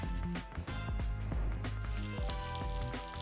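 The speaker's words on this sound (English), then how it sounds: "Listen for that sizzle." Pecan-panko crusted trout fillets sizzle on an electric griddle, a steady hiss under faint background music, close and continuous with small spattering pops.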